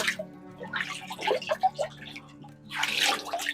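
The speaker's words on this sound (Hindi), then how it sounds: "इस साइड से ये सारा पानी आ रहा है और ये पानी का एक छोटा सा तालाब इन्होंने बनाया हुआ है।" Spring water runs out of the mountain rock into a small built pond in a cave area of Sehnsa, Kotli, giving a close, irregular splashing and trickling with brief louder gushes.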